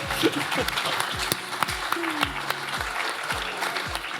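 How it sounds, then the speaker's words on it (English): A crowd's applause runs steadily throughout as a live panel show welcomes new guests, with a voice and some stray sounds mixed in over the clapping. "Round of applause"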